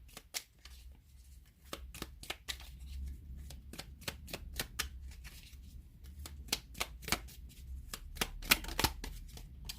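Tarot cards shuffled and drawn by hand, a rapid run of crisp flicking and snapping card sounds with brief pauses, close and fairly quiet over a low background hum.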